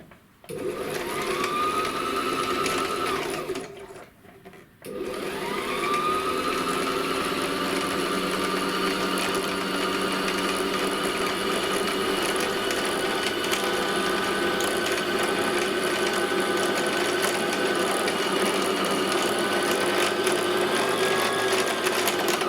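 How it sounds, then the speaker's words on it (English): Sewing machine winding thread onto a bobbin, running with a steady mechanical whir that starts, stops briefly, then resumes and holds continuously and close. "I need to get thread onto it, and then I need to rethread it."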